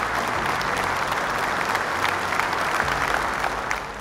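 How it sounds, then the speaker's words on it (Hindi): An audience at a National Family Bible Quiz event breaks into loud, sustained applause, a dense even wash of clapping from a crowd close by that runs steadily throughout. "तो जोरदार तालियां हो जाए"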